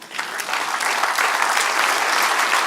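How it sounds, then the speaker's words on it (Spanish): Church congregation applauding in unison during a prophetic sermon, a dense steady wash of clapping that builds slightly and holds loud throughout, with no voices over it. "Denle un aplauso al Señor."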